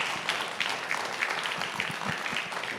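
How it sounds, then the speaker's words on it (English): Audience applause for the panelists at the close of a startup-week conference panel, a brief, dense wash of clapping from a modest crowd at moderate distance, steady throughout. "Quick round of applause for our panelists."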